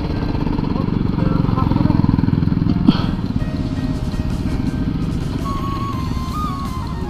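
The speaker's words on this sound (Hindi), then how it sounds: "देखो कितना सारा बाइक है। ओ भाई सब लोग जा रहा है इधर से।" Many motorcycles rumble along together on an Independence Day group ride, a loud, continuous throbbing engine drone close by, with faint voices and a brief horn-like tone mixed in.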